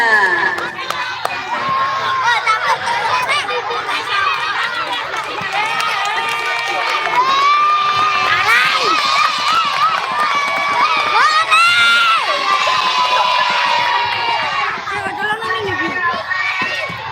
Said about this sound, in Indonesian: Tepuk tangan untuk Ananda Adiba.